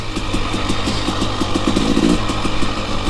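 A motorcycle engine idles steadily and loudly up close while warming up on a cool spring day, with a fast, even putter and no talking.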